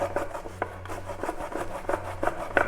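An old but sharp hand grater rasps in quick, steady back-and-forth strokes, each stroke a dry scraping rub in a close, even rhythm with no voices.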